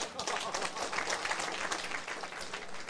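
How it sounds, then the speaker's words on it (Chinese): An audience at a lecture hall bursts into steady applause, dense many-handed clapping sustained at even volume throughout, with faint voices mixed in. "大家拍手一下。"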